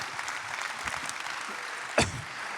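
Audience clapping for speakers after a round-table discussion at a professional conference, a steady spread of moderate applause with one sharp louder clap or knock near the end.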